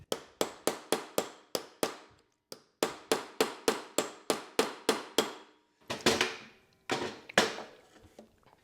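Metal-on-metal hammer blows drive a punch to free the flywheel on a 1976 Honda CT70 minibike, sharp ringing strikes in quick steady runs, about twenty hits with short pauses, loud and close, no talking.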